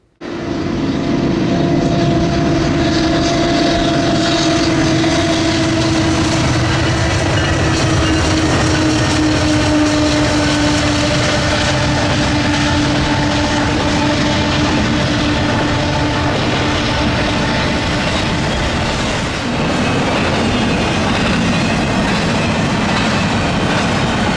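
An intermodal freight train led by locomotives rolls past on the Chicago Line, a loud, steady roar of wheels and cars with rhythmic clatter and faint squeals running unbroken for the whole stretch.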